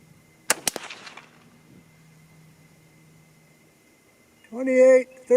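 A single 6mm ARC rifle shot, fired from a Uintah Precision UPR-15 during load testing with 80 to 105 grain bullets, gives a sharp, loud crack and a quick echo, followed by quiet and then someone talking.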